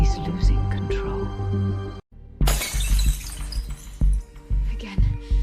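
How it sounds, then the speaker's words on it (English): A glass stabilizer vial shatters in one sudden, loud crash that breaks a moment of silence, followed by scattered tinkling debris over a dramatic background bed with voices. "Since you shattered the third stabilizer vial"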